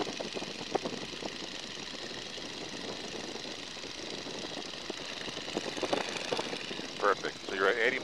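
A 1942 Boeing Stearman biplane's engine throttled back to about 1500 RPM in flight, a steady droning rumble heard from the cockpit throughout, with a person talking over it.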